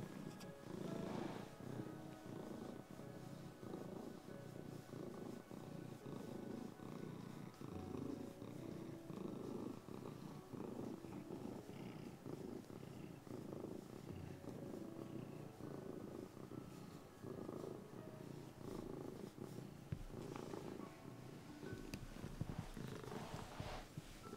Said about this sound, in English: He's on my lap and he's purring.